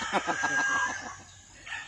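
A pair of native Filipino chickens cluck and call in a quick, irregular series, fairly close, with a brief shrill note early on before the sounds thin out.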